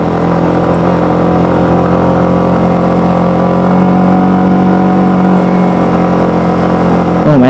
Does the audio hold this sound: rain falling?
no